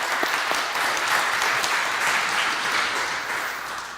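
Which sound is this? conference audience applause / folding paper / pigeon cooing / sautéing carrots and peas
conference audience applause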